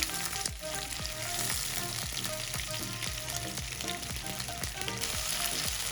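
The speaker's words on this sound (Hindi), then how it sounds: "1 मिनट हो गए हमें मिर्चें फ्राई करते हुए।" Green chillies cut into inch pieces frying in oil in a pan give a dense, steady sizzle with rapid crackling pops, close and moderately quiet, with no voices throughout.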